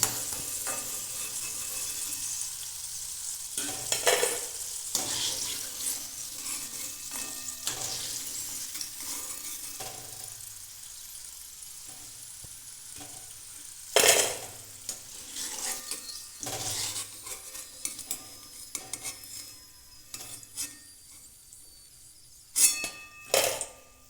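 Crisp, tangy-spicy boiled potato snacks fry in oil with a steady sizzle, broken by several sharp clanks and scrapes of a utensil against the pan, close by and without speech.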